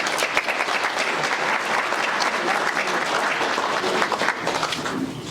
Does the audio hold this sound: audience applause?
yes